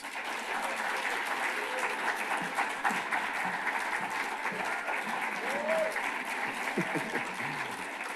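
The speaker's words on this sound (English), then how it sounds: "Let's give her a round of applause." Round of applause from an audience at an event honoring Black Angeleno trailblazer families, a full, continuous wash of clapping at steady volume with faint voices and cheers mixed in throughout.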